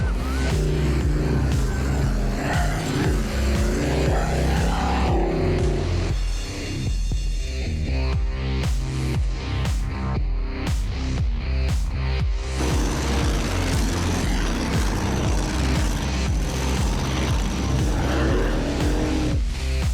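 Off-road race vehicles in a 4500 and 4800 limited-class race tear across a desert course with mud bogs and rock climbs, their engines roaring loud and continuous, revving and surging close by for twenty seconds.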